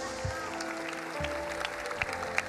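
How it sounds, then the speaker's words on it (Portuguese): A church congregation applauding during a healing and miracles service, continuous clapping under a sustained tone and some faint voices. "Vamos aplaudir ao Rei Jesus"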